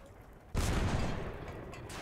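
A single loud tank cannon shot in World of Tanks bursts in abruptly after quiet engine rumble, then rolls into a broad, lingering roar that slowly fades.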